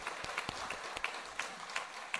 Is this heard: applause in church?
yes